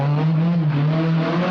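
Rally car from the 1977 Tour de Corse, with Fiat 131 Abarth and Lancia Stratos HF cars in the field, accelerating hard on a tarmac stage in Corsica. Its engine note drones steady, loud and close, holding a sustained pitch.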